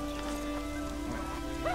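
Rain falls steadily in The Witcher 2, a soft continuous patter behind the game's ambient tones, with no one talking.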